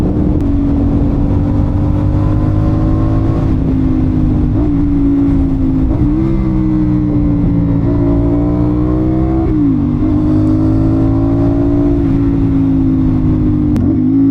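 A CFMOTO 450SS sport motorcycle engine drones loudly and close while riding, its pitch holding steady then dipping and climbing with throttle changes, with no talk over it.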